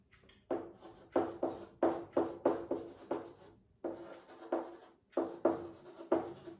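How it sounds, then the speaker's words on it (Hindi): Chalk or marker strokes on a board during an organic chemistry lesson, a series of rhythmic scratchy rubbing bursts, each about a quarter to half second long, close and clear with brief pauses between groups. "चलो इसको थोड़ा सा मैं और सही से लिखता हूं"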